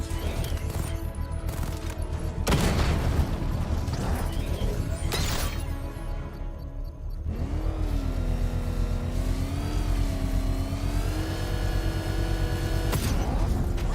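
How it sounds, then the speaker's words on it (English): A controlled explosion set off with a power winch in the Batman: Arkham Knight game, heard as loud booming crashes and rumbling blasts over a steady game score, followed by a rising whining mechanical tone. "I can use the power winch to trigger a controlled explosion"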